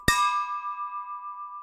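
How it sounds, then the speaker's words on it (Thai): A small bell rung once in the video game Alice Is Dead, a sharp metallic strike that leaves a clear ringing tone fading slowly over a second and a half. "กระดิ่งมีเสียงแต่ว่าก็ไม่เกิดอะไรขึ้น"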